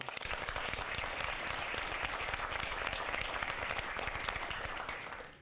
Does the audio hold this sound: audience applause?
yes